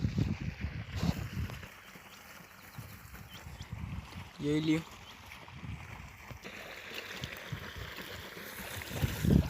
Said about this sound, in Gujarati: મરસીમાં પાણી વાળવાનું ચાલુ છે।